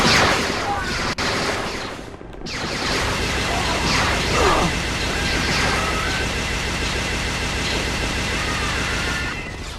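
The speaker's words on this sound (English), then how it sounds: "That repeater is quite handy weapon, as it finally gives you a area attack with lots of aerial effect" A repeater gun fires in a video game, a dense rapid stream of shots with whooshing area-blast effects, loud and continuous with a short break early on.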